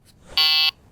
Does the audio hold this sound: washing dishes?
no